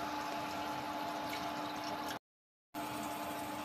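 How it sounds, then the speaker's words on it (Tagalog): Water pours steadily into a cooking pot while bihon noodles are being prepared, a continuous close gushing splash that stops briefly and then resumes. "Lagyan ng tubig."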